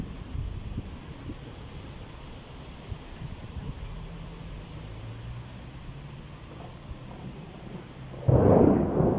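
Thunder rumbling with no rain falling, a low distant roll spread across the clip under steady wind noise, swelling into a louder burst near the end.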